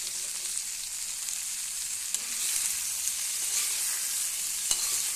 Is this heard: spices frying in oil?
yes